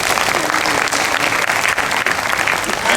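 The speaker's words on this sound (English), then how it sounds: "A round of applause for it." At a university law students' association anniversary ceremony in Ilorin, the audience breaks into sustained, loud applause, a full crowd of hands clapping continuously with occasional murmurs.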